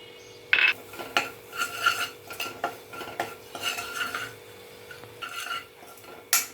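A metal spoon scrapes and clinks against a pan while chilli powder, kasuri methi and garam masala are stirred in, giving repeated rhythmic scraping strokes and occasional sharp taps over a faint sizzle; no talking.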